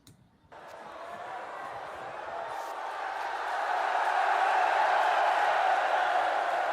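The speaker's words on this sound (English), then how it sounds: "They're cheering before you even say it." Audience at a live event cheering and applauding: a broad, steady crowd roar that starts abruptly and swells louder toward the end, with scattered whoops and no clear talk on top.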